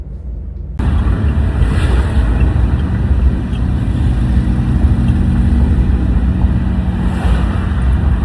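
A ferry moves across open water, giving a loud continuous rumble of engine and water wash mixed with wind buffeting the microphone, steady throughout with no talking.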